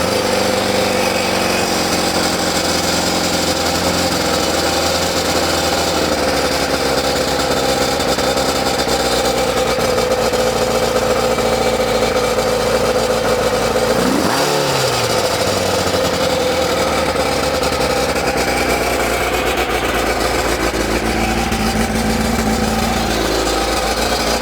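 A Kawasaki ZZR600 motorcycle engine, freshly restored with exhaust fixes, runs at a steady idle for a sustained stretch, a dense mechanical drone with a brief dip and rev change midway, close and loud with no talking.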